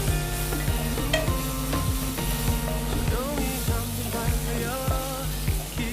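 Softened bell peppers being stir-fried in a pan for kaju paneer, with a steady sizzle and repeated sharp scraping stirs throughout, beneath continuous tonal background music.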